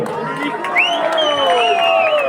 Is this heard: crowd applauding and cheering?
yes